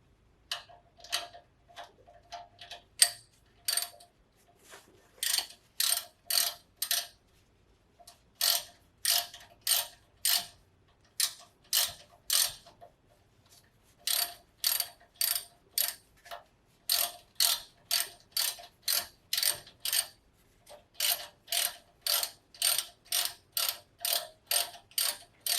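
A hand ratchet clicks in bursts of rapid, even ticks while fastening a brake line bracket to the front knuckle of a Toyota FJ Cruiser, close and clear with short pauses between runs.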